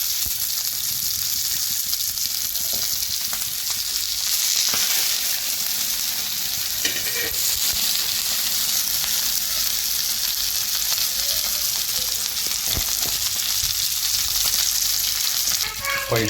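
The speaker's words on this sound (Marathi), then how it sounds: "अशा प्रकारे बांगडा फ्राय करायला आपण ठेवलेला आहे तव्यामध्ये." Semolina-coated bangda mackerel fries on a hot tawa, giving a loud, steady sizzle that stays dense and continuous throughout, with a few faint clicks and light stirring noises.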